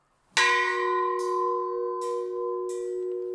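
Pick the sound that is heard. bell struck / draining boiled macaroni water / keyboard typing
bell struck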